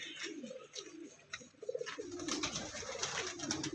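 Pigeons coo softly in a low, throaty murmur, with faint rustling and background noise around them.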